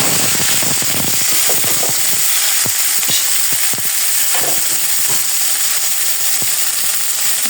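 Oil sizzling and frying in a wok (kadai) on a village home kitchen stove, a steady loud hiss with scattered crackles and pops throughout, no talking.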